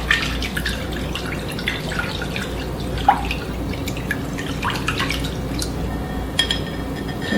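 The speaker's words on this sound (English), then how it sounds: "Now I'm going to whisk this together. Get that egg broken up." A whisk beating egg into a bread batter with orange zest in a bowl, quick irregular wet clicks and taps close up, steady throughout.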